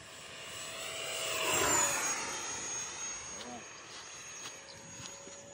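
Toy airplane flying overhead outdoors, a whining motor hum whose pitch sweeps as it passes close, swelling and then fading slightly, with voices faintly in the background.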